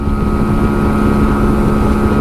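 A Honda Shadow 125 motorcycle riding along a country route, its engine humming steadily under heavy wind noise buffeting the microphone, loud and unbroken.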